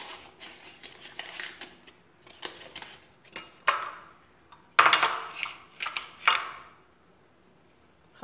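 Dry bread dough ingredients (sugar, a small spoon of salt and yeast) stirred together in a bowl for small harcha: soft scraping, clinking and rustling strokes in uneven bursts, close and fairly quiet.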